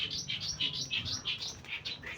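A pet blue bar pigeon cooing and making soft chirping calls, repeated in a steady rhythm of short phrases, close and clear with a low murmur beneath.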